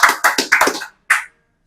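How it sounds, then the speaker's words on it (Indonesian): A small audience at an Indonesian comedy show gives a short burst of about five loud, close claps, then pauses and adds one final clap. "Tepuk tangan dulu, teman-teman."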